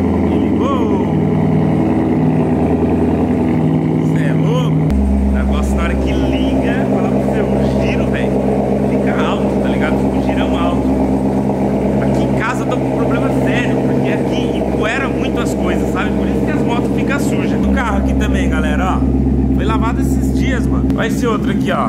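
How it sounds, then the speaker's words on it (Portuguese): A Corvette started with the key in a home garage: a starter whir, then the engine catches into a loud, steady idle rumble that carries on as someone talks over it. "Hoje eu vou ensinar vocês aqui como ligar o Corvette na chave."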